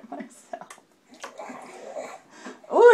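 A baby in a bathtub laps up bathwater like a puppy, making wet splashy slurps and small watery sounds between soft breaths, ending in a louder splash.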